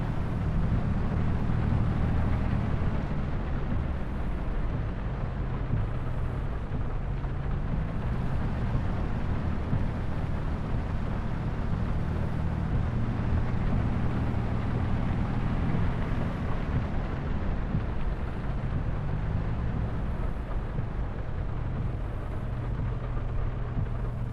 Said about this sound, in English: Still hosing down out here, as you can hear. Very, very wet today.